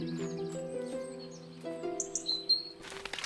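Short, high bird chirps and tweets from the video game Botany Manor rise over soft, sustained game music, a few bright calls near the end.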